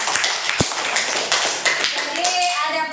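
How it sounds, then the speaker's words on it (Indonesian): Elementary school students clapping in a classroom at SDN 24 Pakkanna during a lesson about how paper is made, a loud burst of scattered hand claps from many children with voices chattering over it near the end. "Tepuk tangan dulu."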